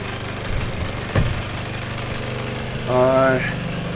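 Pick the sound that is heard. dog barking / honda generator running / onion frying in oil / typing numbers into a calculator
honda generator running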